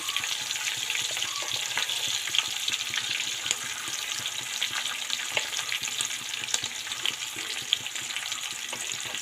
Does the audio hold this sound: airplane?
no